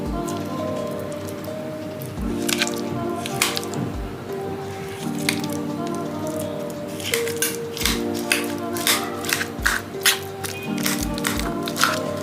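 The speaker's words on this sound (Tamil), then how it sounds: "நம்ம இப்போ இதை வந்து மசிச்சுக்கலாம்." Cooked sweet potato being mashed for halwa, soft repeated wet squishing and dripping sounds in an irregular rhythm, close and moderately loud throughout.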